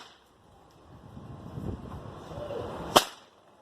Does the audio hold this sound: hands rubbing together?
no